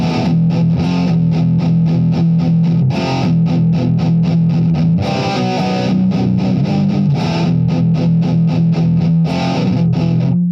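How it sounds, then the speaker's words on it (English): A heavily distorted electric guitar on a Positive Grid Spark practice amp plays a metal tone through the full bridge humbucker, with loud chugging palm-muted riffs in a tight, repeating rhythm and sustained chords between. "Now let's go to the metal tones. Okay, iron hammer. Let's go to the bridge position."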